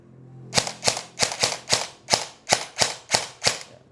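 An airsoft rifle fires eleven sharp, separate semi-auto shots close by, in an irregular but quick rhythm with brief ringing tails and nothing else.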